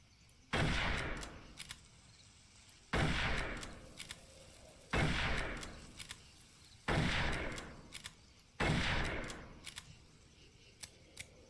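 Five loud gunshots from World War I era weapons, a Mauser Nagant rifle and a Mauser C96 pistol, in the Darkest of Days shooter game, evenly spaced about two seconds apart, each a sharp crack with a short reverberant tail, no talking.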